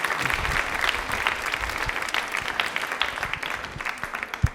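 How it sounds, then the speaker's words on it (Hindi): An audience at a quiz event breaks into loud, close clapping that rewards a correct answer, dense at first and then thinning to scattered claps with one sharp final clap. "जोरदार तालियां बजाइए"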